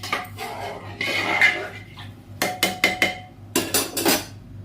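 Spoon clinking and scraping against a metal pot or bowl while water is stirred in, a series of sharp repeated clinks and scrapes, close and fairly loud, with no talking.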